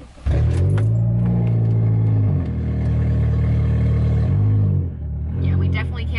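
A car running with its catalytic converter stolen gives off a loud, steady exhaust rumble from a close source. The deep drone holds for several seconds, dips briefly, then swells again.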